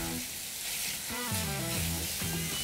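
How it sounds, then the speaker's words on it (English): Turkey sausage sizzling steadily in a hot pan, a constant crackling hiss with a few brief tonal clinks partway through. "You wanna make sure you hear that sizzle so the pan is nice and hot."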